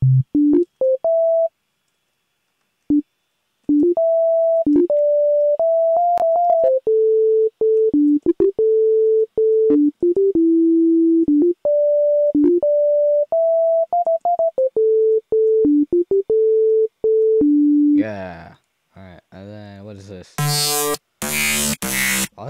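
A pure, smooth synthesized sine wave sub bass steps through a melodic pattern of held notes with brief gaps, then harsher buzzy sounds take over at the end.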